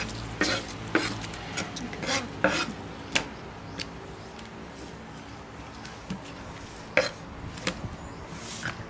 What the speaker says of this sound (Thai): ก็หั่นครับหั่นเป็นชิ้นนะครับ